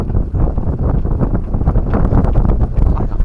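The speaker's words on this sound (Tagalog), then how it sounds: "Hangin ng amihan." Steady northeast monsoon wind rushing and buffeting against the microphone, a continuous low roar with gusty swells throughout.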